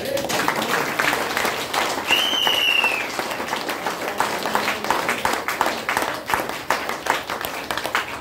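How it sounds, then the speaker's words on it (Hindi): Audience applause at a motivational talk, dense clapping filling the whole stretch with a brief whistle-like tone early on and some voices mixed in. "ताली नहीं मार सकते इसके लिए"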